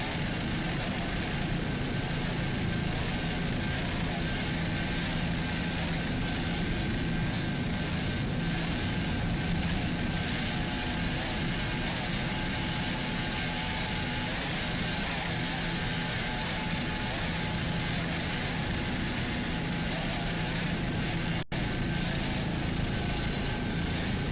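A 2.5-liter Mercury outboard engine drives a 30-foot Spectre racing catamaran in a super stock cat outboard race at Fort Myers, giving a continuous loud, high-revving roar that holds steady throughout with no talking.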